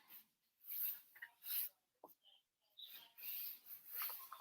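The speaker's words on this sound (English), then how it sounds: "Burnish." Bursts of rubbing and scraping from burnishing a glued paper hinge in a craft project, short strokes repeated in an uneven rhythm with pauses between, close and quiet with no talking.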